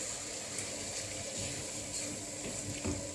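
Pasta cooking water pours out into a kitchen sink as a steady, close rushing gush that holds even from start to finish, with no one speaking.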